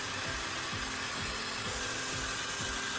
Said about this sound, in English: I'm going to start sharpening this incredibly dull knife.